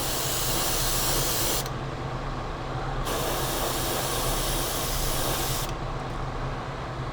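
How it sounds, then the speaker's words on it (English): Continuous spray-can hiss of pearl paint sprayed in small circles, steady and close, with a couple of brief changes in texture as the nozzle moves; no talking. "So I recommend spraying in small circular pattern."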